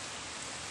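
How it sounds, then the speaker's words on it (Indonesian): Heavy rain pours outside an abandoned bungalow in PJ, a dense, steady hiss of falling water heard close and continuous with no voices over it. "hujan sangat lebat eh kat luar"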